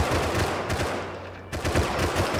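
Gunfire in the video game Rust comes as rapid bursts of close, loud shots, with a short lull in the middle before another burst.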